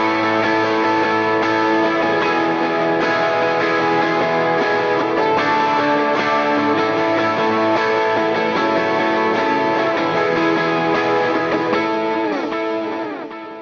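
Two guitars play the worship song Mighty to Save: high-strung chord inversions ring over low open chords. A full, dense, steady strummed texture plays throughout with no talking, fading slightly at the very end.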